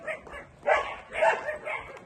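A dog barks close by in a short run of three or four rough, evenly spaced barks, loud and clear with no talk over them.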